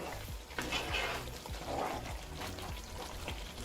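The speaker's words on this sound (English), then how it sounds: "After about 5 minutes, just mix everything" A spoon stirs lamb curry with tomato puree in a pan, giving soft wet squelching and scraping over a low, steady bubbling simmer, close and quiet.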